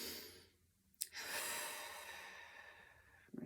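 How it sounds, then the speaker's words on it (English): A person takes one slow, deep breath in through the nose and lets it out during a calming sleep-therapy exercise, soft and close in a quiet room. "take a deep breath in"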